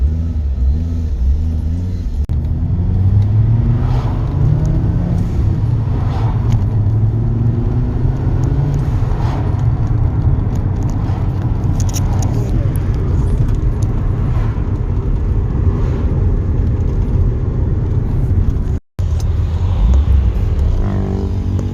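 A Fiat Coupe 20v Turbo drives under boost with a loud, continuous engine rumble and drone close by, with rising and falling pitch throughout and a brief dropout near the end.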